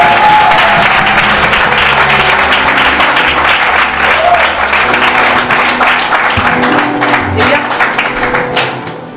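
Church congregation applauding the Lord, sustained dense clapping that fills the space for the whole stretch and tapers slightly near the end, with a few voices mixed in.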